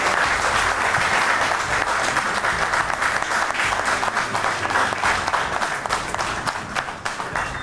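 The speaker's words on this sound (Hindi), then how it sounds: "जनाब आरिफ बुखारी आपकी ढेर सारी तालियों के साथ" An audience at an Eid special poetry mushaira claps in sustained, dense applause that stays loud and even throughout, with no talking over it.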